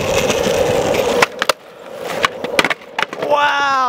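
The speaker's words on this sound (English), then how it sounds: "I'm gonna challenge you to do a 50-50 late shove on that ledge over there." Skateboard wheels roll loudly toward a ledge, then the board clacks and grinds on it in a 50-50 with a late shove-it, followed by sharp wooden snaps and landings, with a brief voice heard at the end.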